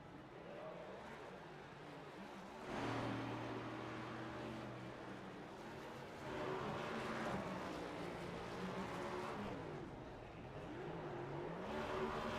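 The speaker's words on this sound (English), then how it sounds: "Gotta love the burnouts." A race car does a celebratory burnout after a Phoenix race in the iRacing sim. The engine drones and swells in repeated waves, quiet and somewhat distant, with a commentator talking underneath.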